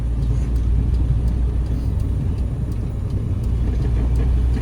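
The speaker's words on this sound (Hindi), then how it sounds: "अब मैंने दे दिया लेफ्ट का सिग्नल, ये कर दिया मैंने थर्ड गियर" A Maruti Swift car driving in third gear, heard from inside the cabin as a steady, loud engine and road rumble that stays continuous and even throughout, with no talking.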